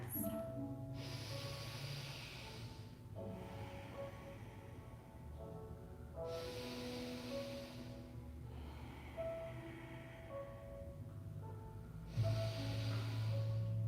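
Slow, deep breaths during a yoga session come as soft, airy swells about every three seconds, faint and close over quiet background music.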